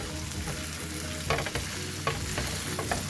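A steak cooks in a hot pan with a loud, continuous sizzle close by, broken by occasional clinks and scrapes of a utensil, with no talking.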